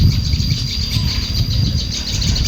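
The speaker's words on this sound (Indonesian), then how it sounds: "Oh, banyak burung yang bercuitan ya teman-teman." Many birds chirp and tweet continuously around a classic village in the hills, a dense, close chorus with insects buzzing underneath and no talking.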